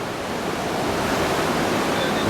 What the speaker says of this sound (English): as they're rafting down along the river here. I think it's called the San Juan River